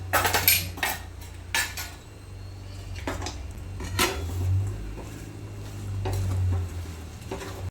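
Ground jaggery being mixed into chopped raw mango in a pot, with close, clattering spoon scrapes and knocks against the metal at an irregular pace, some strokes louder than others, with no talking.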